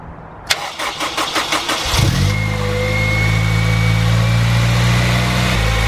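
A Honda Civic Type R EP3 engine with a cold air intake cranks in a quick series of rhythmic pulses, catches after about two seconds, then settles into a smooth idle.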